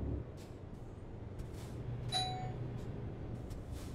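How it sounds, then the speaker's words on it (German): A doorbell chimes once, a short bright ding ringing out over a quiet low hum in the Euro Truck Simulator 2 game. "Jetzt klingelt's."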